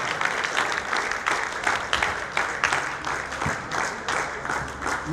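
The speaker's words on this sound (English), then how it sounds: "So a huge round of applause" An audience applauds at the finals day of the Club World Series tournament at U-Pro Dubai, steady, dense clapping sustained throughout at moderate loudness with no voices standing out.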